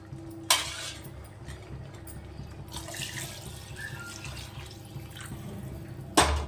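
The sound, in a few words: water being poured into pot for palak pulao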